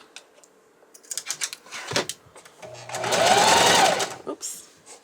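A sewing machine runs in short stitching bursts, then whirs in one longer sustained run before stopping, with clicks and handling noises around it; a person speaks briefly.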